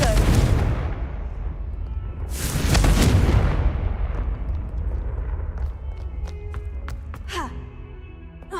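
A Confringo fire-blast spell goes off in Hogwarts Legacy as one loud, broad explosive burst mid-clip, surrounded by a rumbling ambient bed and followed by soft chiming tones.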